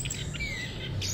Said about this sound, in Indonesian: Burung akan mudah bunyi, entah itu ngeplong, entah itu ngerol.